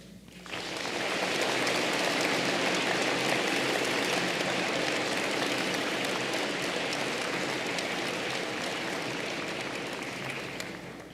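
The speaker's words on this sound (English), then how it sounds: "Let us all please welcome our new students and a new APU with a warm round of applause." Sustained audience applause fills a hall at the Ritsumeikan Asia Pacific University entrance ceremony, a dense, even roar of many hands clapping that swells in quickly and holds steady for about ten seconds.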